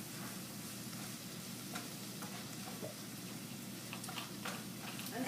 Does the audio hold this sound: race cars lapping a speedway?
no